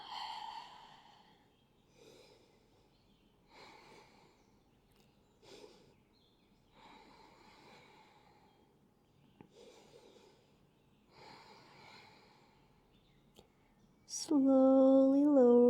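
Slow, deep breaths during a spine-stretching yoga session, about six long inhale-exhale cycles with quiet pauses between, close and soft. A loud sustained tone enters at the end.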